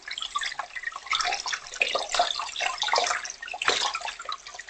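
Cooked fettuccine rinsed under cold running tap water in a sink: a continuous close splashing and gurgling stream with irregular spatters, loud and without speech.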